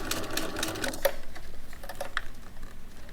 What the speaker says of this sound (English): so I can sew this straight line across the top